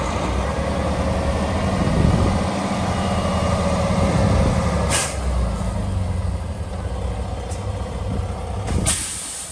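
A 2013 Mack Pinnacle CHU613 diesel truck engine idles steadily with a deep, even rumble, broken by a couple of sharp hisses of released air.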